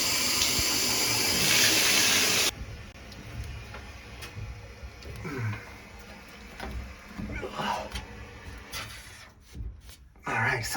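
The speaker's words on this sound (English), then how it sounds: "I'm gonna turn the water on." Steady rushing of water pours from a tap for a couple of seconds, then cuts off, leaving quieter handling noises and faint movement.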